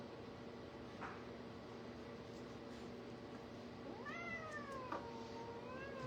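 A cat being taken in at intake gives a couple of drawn-out, rising and falling meows over a steady low mechanical hum, fairly faint and close.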